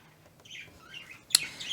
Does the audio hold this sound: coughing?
no